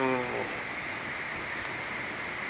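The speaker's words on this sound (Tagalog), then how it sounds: "kahit na hintayin po natin tumila ng konti ang ulan" Steady rain falls continuously, a soft even hiss with no distinct drops standing out; a brief voice is heard at the very start.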